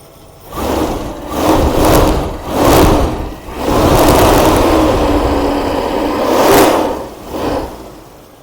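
A 1988 Mercedes 560 SEL V8 running just after a cold start, a loud, close engine rumble swelling in several brief rev surges over a steady fast idle, with no talk.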